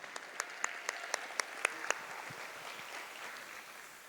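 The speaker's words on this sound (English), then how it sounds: "Let's give them a big hand of applause." Audience applause at an arangetram dance recital, a short burst of light, scattered claps from a sizable hall crowd, fairly distant and soft, fading out after about two seconds.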